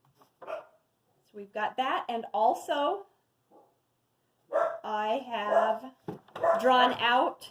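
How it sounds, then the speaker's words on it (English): A dog barks in short, fairly close bursts mixed with a person's steady talking in a quiet room, with the barking partly overlapping the speech. "sorry, that's just my dog."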